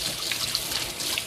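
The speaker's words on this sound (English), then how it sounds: "So give it a quick rinse." A short burst of tap water splashes and trickles as a giant carrot gets a quick rinse in a kitchen sink.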